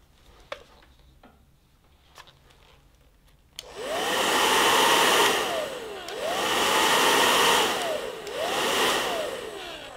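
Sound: hair dryer blowing on a temperature sensor

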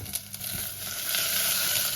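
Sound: chopped onion frying in hot rapeseed oil in a saucepan

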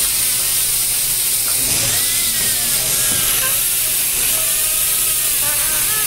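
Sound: dental handpiece polishing porcelain crown with hard bristle brush

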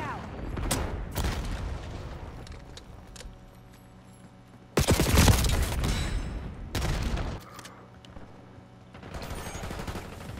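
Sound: frag grenade explosion amid gunfire in Call of Duty video game

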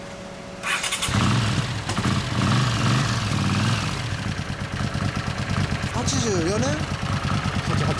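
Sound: 1988 Triumph Bonneville motorcycle engine running

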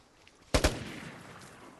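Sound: light machine gun fire in a video game

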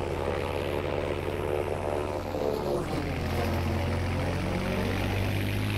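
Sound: Mustang P51K plane propeller engine in Battlefield V video game

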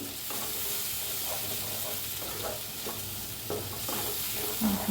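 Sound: masala being roasted and stirred in a pan

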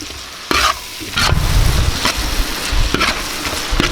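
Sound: sautéing fish head curry masala in a pan

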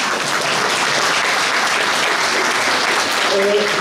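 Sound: applause

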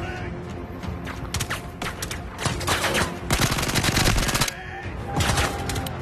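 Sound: gunfire from video game Zero Caliber 2 VR

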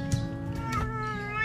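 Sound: cat meowing

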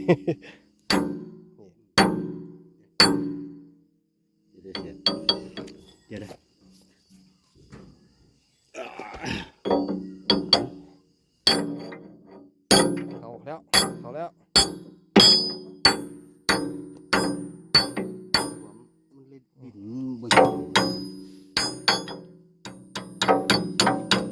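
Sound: hammering metal

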